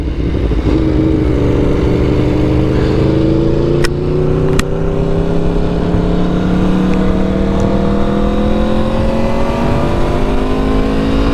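Sport motorcycles, including an Aprilia and a Ducati, ride on a freeway, with a loud, steady engine drone whose pitch climbs smoothly under acceleration over constant wind and road roar.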